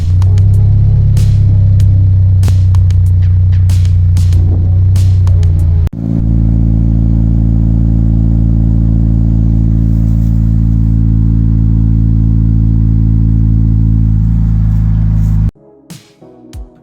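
Toyota GT86 with an aftermarket exhaust and burnt titanium tip, its engine loud and close: a rough idle for several seconds, then a steady held rev that cuts off near the end, followed by a few faint clicks.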